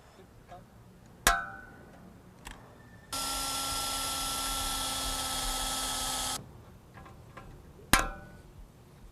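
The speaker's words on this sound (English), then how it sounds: "We are going to drill and rivet this corner post in 3 different places" Drill bit running steadily for about three seconds through a Sunglo Model 1000C greenhouse corner post, bracketed by sharp clicks of a rivet tool before and after, all close by in a quiet space.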